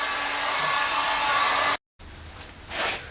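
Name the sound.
heat gun heating PVC electrical conduit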